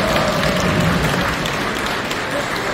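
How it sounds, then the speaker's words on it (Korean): Wedding guests at a ceremony in Jincheon, South Korea, applaud steadily throughout, a dense, continuous wash of clapping that holds at a loud, even level. "하객분들의 힘찬 박수 소리와 함께 결혼식을 시작하도록 하겠습니다"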